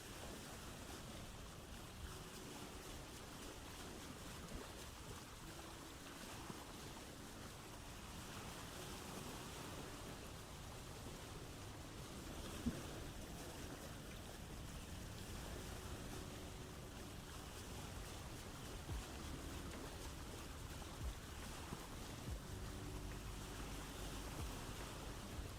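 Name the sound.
boat sailing on waves, from the video game Vintage Story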